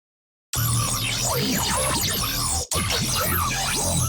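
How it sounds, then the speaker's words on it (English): A dense, swirling synth texture shaped by flanger and ring modulation, with sweeping, metallic movement and rising and falling tones, loud and continuous after a brief silence, cut by a momentary dropout. "These adjust the flanger and the ring modulation."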